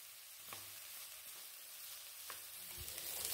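Okra sautés in hot oil with a soft, steady sizzle, and occasional faint scrapes and taps come from stirring. The whole scene sits low and fairly distant, with no voices.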